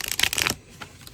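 A new tarot deck shuffled briefly up close, a quick crisp run of card riffles that stops abruptly and leaves a faint tail.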